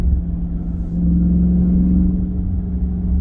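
A 2023 Chrysler 300C with a 6.4-liter HEMI V8 while driving, heard from inside as a loud, steady low exhaust rumble that thickens slightly partway through.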